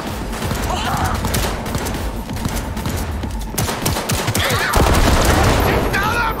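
Rapid bursts of automatic gunfire from a weapon in the video game Cyberpunk 2077 rattle on continuously, loud and dense, with voices talking underneath.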